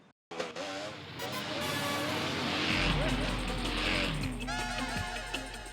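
A motorbike ridden by a rider in all-black gear passes by, a steady engine drone swelling and fading across several seconds, with a low rumble building beneath and voices and background music over it.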